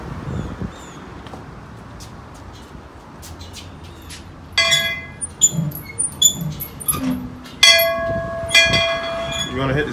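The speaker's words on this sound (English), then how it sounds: "go ring the bell, Noah." Bell rung at a street outlaws race callout, bright metallic clangs ringing out in bursts in the second half over outdoor background noise.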